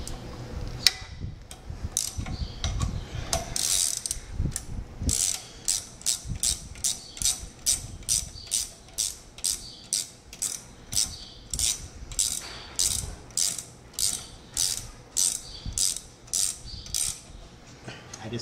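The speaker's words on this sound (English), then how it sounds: "Once you have them connected, take your wrench." A wrench ratchets steadily while snugging the leveling feet on a mill, a long run of evenly spaced metallic clicks with mechanical clatter at the start, close and fairly loud with no talking.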